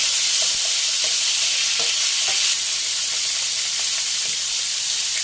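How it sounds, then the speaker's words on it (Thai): Pork belly stir-frying in hot oil gives a loud, close, continuous sizzle with light stirring scrapes, steady throughout. "หลังจากนั้นก็ใส่หมูสามชั้นลงไปผัดค่ะ"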